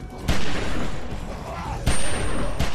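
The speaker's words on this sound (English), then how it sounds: "I'm actually shooting this time." Rapid loud gunfire bursts from The Walking Dead Season 1 video game, a few sharp booming shots with heavy continuous noise between them, close and dominant.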